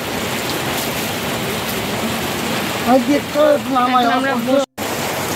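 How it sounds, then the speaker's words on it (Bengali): Heavy rain pours down outside a shoe shop in Bakkhali, a steady, dense hiss that fills the scene while a voice talks briefly over it. "আর দেখো এই যে বেরোবো আর কি বৃষ্টি নেমেছে"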